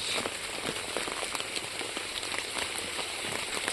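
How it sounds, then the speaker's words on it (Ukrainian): Steady rain patters on a surface with many small, crisp drops, close and continuous, with no voices. "у нас знову дощ, знову продовжується дощ."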